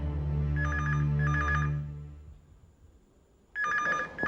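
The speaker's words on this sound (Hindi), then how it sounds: "मैं जरा फोन देखता हूं।" A telephone rings with two bursts of electronic trilling bell, then a short lull, and rings again. The tone is close and loud indoors, with no speech.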